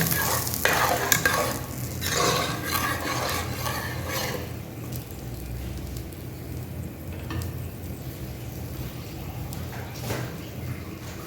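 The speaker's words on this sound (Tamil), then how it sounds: "பூண்டு கொதிக்கலாம் அப்படியே" Garlic cooking in a pot of sour lentil curry: a sizzling, bubbling simmer with a few stirring scrapes and clinks near the start, then steady low bubbling.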